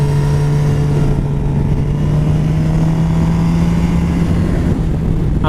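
A Suzuki GSX-R750 sport motorcycle cruises along with a steady, droning engine note and continuous wind rush, loud and close throughout.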